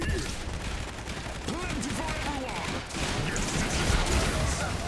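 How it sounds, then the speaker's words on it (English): Dense, continuous gunfire from units focus-firing on a target in the Iron Harvest strategy game, a steady battle din of rapid shots with a voice talking over it. "Get it nice and turned around for us so Yannick can focus fire it."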